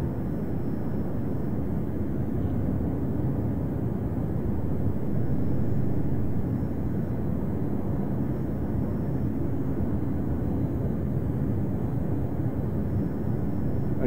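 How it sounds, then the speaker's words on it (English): An FA-181 jet in Arma 3 comes in to land on an aircraft carrier, heard as a loud, continuous low engine roar that holds steady throughout without any pause, and no voices. "Landing on an aircraft carrier."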